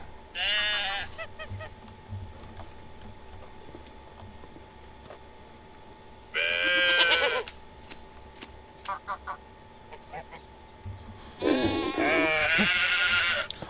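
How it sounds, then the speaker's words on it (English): Sheep in the farming game Medieval Dynasty bleat in three separate bursts, each a wavering, nasal cry heard fairly close, with quieter farmyard ambience and a steady low hum between calls. "it looks like one of our sheep babies grew up"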